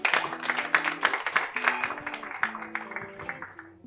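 Applause from a seated audience at a French talk-show debate, a loose patter of clapping hands that rises, thins and trails off over several seconds, with voices murmuring underneath.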